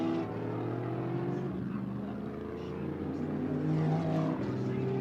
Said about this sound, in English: You see the cars weaving back and forth, dragging the brake a little bit.